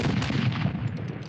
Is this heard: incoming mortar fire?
yes